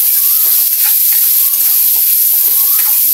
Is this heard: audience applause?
no